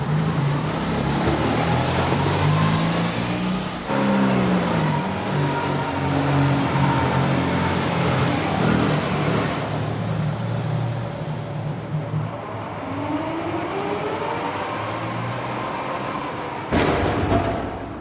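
A car engine turns over and runs, a continuous rough rumble that rises and shifts in pitch as it revs, ending in a brief louder burst, close and alone without speech.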